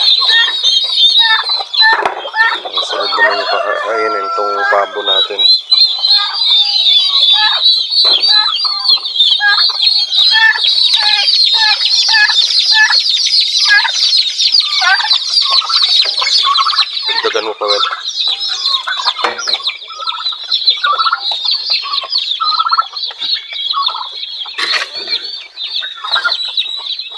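A flock of turkeys gobbles and clucks continuously and loudly up close, overlapping calls with occasional wing flaps, no talking.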